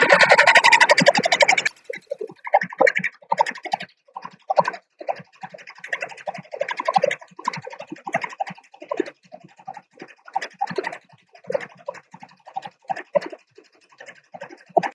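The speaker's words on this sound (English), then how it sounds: "Then I'm going to click on start to start." Small-frame embroidery machine stitching an agbada design, a quiet rapid irregular ticking and scratching of the needle that runs steadily after a brief louder start.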